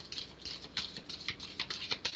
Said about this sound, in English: This is the last all out now shuffle